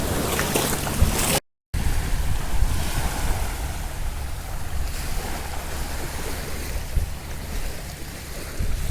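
Ocean waves at Bandos in the Maldives break and wash steadily on the shore, a loud continuous surf roar with wind buffeting the microphone and one brief dropout early on.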